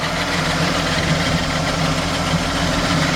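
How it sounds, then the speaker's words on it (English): A 1981 AMC Eagle SX4 with electronic ignition idles steadily up close, a low, even rumble that holds without change throughout. "It's got a great sounding little engine."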